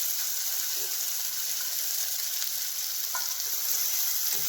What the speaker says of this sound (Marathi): हे आलं, लसूण आणि हिरवी मिरची बारीक ठेचा करून घेतली. तेलामध्ये तळून घेऊया.